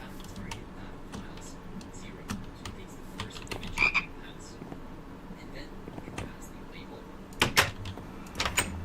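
A player imitates a frog croak during a late-night Minecraft session, with short croaking bursts near 4 and 7.5 seconds over quiet game sounds and clicks.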